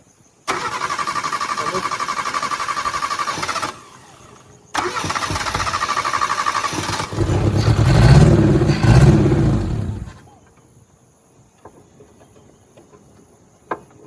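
A car engine being push-started with the clutch in neutral and reverse attempts: two long bursts of cranking, the second catching into a rough, louder rev before cutting off, leaving near silence with a faint click.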